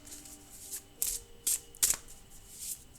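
Tarot cards being shuffled by hand, a few quick crisp riffling bursts spaced about half a second apart over a quiet background, close and fairly soft, with no speech.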